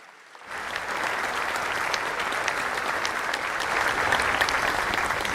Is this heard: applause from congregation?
yes